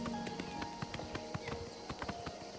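Horse hooves clip-clop steadily in the video game Oblivion Remastered, a brisk regular rhythm of hoofbeats close by, with faint ambient game sound beneath.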